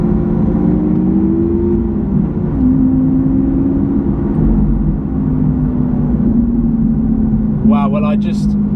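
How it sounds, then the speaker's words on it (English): A Lamborghini Aventador SV engine drones loudly and steadily at close range, its pitch rising and falling with revs and a downshift through the single-clutch gearbox, while a voice talks over it. "For a single clutch gearbox, that downshift is pretty instant."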